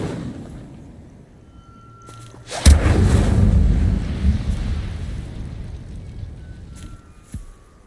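An Incendio fire spell is cast in the Hogwarts Legacy video game, erupting in a sudden loud whoosh and roar that rumbles on and slowly fades over several seconds, with no talking.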